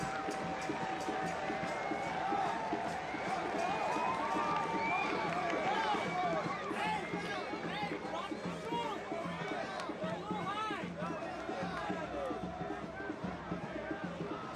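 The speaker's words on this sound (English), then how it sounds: "Listen to that applause" A soccer stadium crowd at an FC Naples versus Chattanooga Red Wolves match applauds a substitution, cheering and clapping in a broad distant roar as a commentator talks over it throughout.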